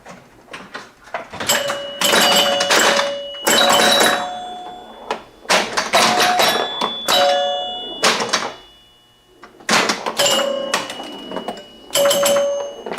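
Mechanical Elton John Captain Fantastic pinball machine in play, with bursts of chiming bells, dings and rattling mechanism coming in several loud clusters separated by brief pauses.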